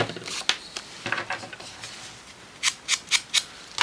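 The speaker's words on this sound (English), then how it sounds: "I'm going to just snip. Just snip." Scissors snip paper in short, sharp cuts close by, a few scattered snips early on, then a quick rhythmic run of four or five crisp cuts toward the end.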